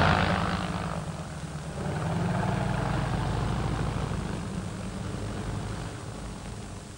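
Early Junkers aircraft taking off close to the camera at a busy airfield, giving a loud, steady engine and propeller drone that swells and then slowly fades, with no talking.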